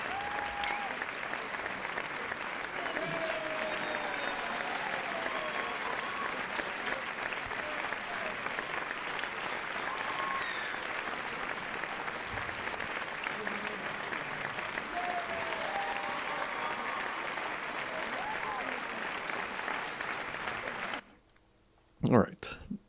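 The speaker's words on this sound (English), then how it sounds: "You gotta give that one a round of applause." Sustained applause at an online awards stream, a steady, even roar of many clapping hands for about twenty seconds before cutting off abruptly, followed by a brief low thump.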